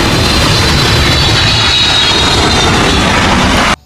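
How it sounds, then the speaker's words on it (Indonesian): Loud, steady roar of a Boeing airplane's jet engines, close and continuous, ending abruptly. "Wah, lihat, ternyata pesawat Boeing teman-teman."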